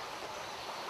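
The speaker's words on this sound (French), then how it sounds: "on a retrouvé une rivière courante, une section de rivière courante." A flowing section of the Orvane river gives off a faint, even wash of running water, constant and unbroken.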